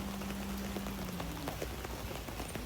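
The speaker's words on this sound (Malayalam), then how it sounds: "മഴയും ചെറുതായിട്ടുണ്ട്." Light rain falls steadily during a boat ride through floodwater, a faint even hiss with scattered patters and a low, fading hum underneath.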